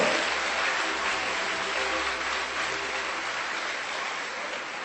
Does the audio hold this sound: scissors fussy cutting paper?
no